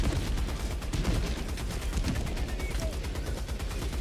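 A heavy machine gun in Helldivers 2 fires a steady, rapid stream of loud rounds, dense and continuous throughout with a strong low thump beneath.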